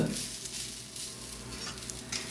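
Shallots and coriander powder frying in a pan for shallot sambar, giving a continuous close sizzle with scraping stirring strokes throughout and no talking.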